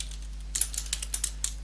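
A computer keyboard is typed on in a few quick, close, crisp keystrokes, irregularly spaced, over a steady low hum, with no talking.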